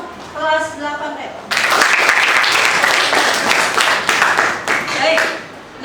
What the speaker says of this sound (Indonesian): Tepuk tangan untuk kelas 8